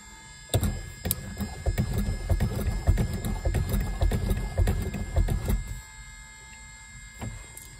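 An outboard boat engine cranks and catches, then runs with a rough, rapid chugging for about five seconds before cutting out, with a faint knock afterward; the sound is close and loud, with a steady electrical whine underneath.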